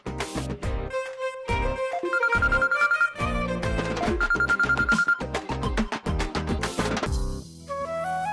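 A telephone rings with a melodic ringtone, a bright looping tune that plays loud and close for about eight seconds with no voices over it.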